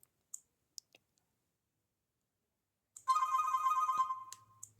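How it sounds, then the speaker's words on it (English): After a few scattered clicks, a bright electronic phone ringtone plays a short melodic phrase, close and clear, then cuts off. "Play one ringtone."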